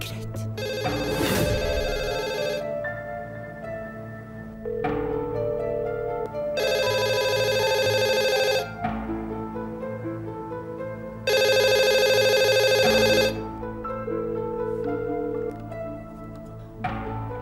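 A telephone rings with a loud electronic tone, sounding in three long bursts separated by quieter stretches where a softer melodic ringtone continues, alone with no one speaking.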